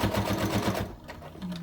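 Domestic sewing machine stitching fabric for a sunglasses case, a steady rapid needle rhythm for about a second before slowing and stopping, close and moderately loud.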